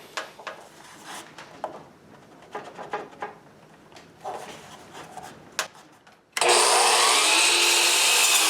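A saw trims a quarter inch off an eight-foot wooden board for a raised garden bed. Scattered handling knocks come first, then the saw bursts in loud and close and roars steadily to the end.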